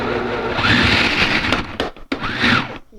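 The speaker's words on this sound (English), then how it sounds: "Grate some cheese." A food processor motor whirs loudly and steadily while grating cheese, dipping briefly twice near the end as it bogs down, with no voices.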